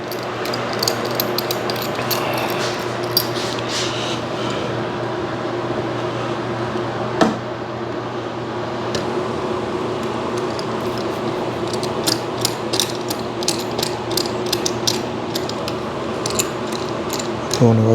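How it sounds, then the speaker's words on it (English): Loud, rapid clicking of a ratcheting clamp being tightened on a work table, the pawl rattling continuously over a steady background hum and occasional knocks, with a person murmuring faintly. "If I understand right, I should be able to clamp that."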